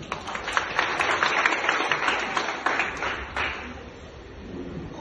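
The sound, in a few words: audience applause for an invited guest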